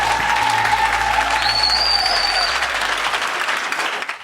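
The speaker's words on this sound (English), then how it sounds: "I think that everyone deserves a round of applause." Audience applause at a youth national championship event, loud dense clapping from a crowd with a few faint tones and cheers mixed in, holding steady before thinning out near the end.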